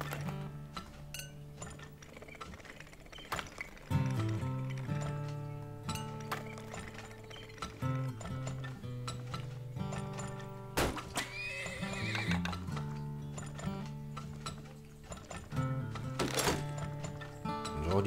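Game horses in the oil-drilling game Turmoil neigh and whinny while hooves clip-clop rhythmically, along with clinking mechanical sounds and steady game music.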